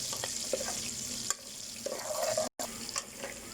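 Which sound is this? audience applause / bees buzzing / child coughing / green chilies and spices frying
green chilies and spices frying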